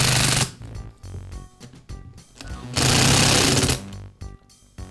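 Impact driver running screws into a new plastic housing for a Makita hammer drill, two loud rattling hammering bursts close by, separated by quieter handling and mechanical noise.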